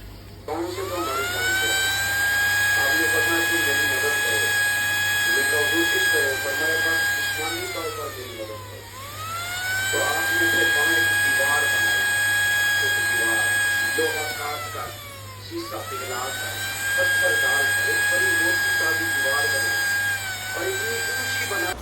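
Gold jewelry sets, rings, necklaces and tops being polished to a shine on a machine: a steady high whine that sags and rises again in long cycles, with a constant low hum underneath and no talk.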